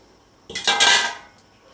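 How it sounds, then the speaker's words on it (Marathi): Fried peanuts and dried coconut pieces tumble into a bowl of roasted-poha chivda with a close, bright clatter and rustle. The sound lasts about a second against a dish, with no talking. "आणि हे जे आपण फ्राय केलेले सर्व शेंगदाणे खोबरं वगैरे आहे सर्व मी ह्याच्यामध्ये ॲड करतो"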